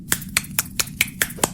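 Seven sharp, evenly spaced slaps from a single hand struck to mimic a clap, crisp and close, ticking along in a steady rhythm with no talking.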